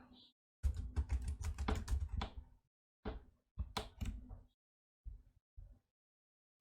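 Computer keyboard typing close by during a VideoScribe whiteboard-animation workshop: a fast burst of keystrokes, then a few separate heavier key presses like the enter key, with short silences between.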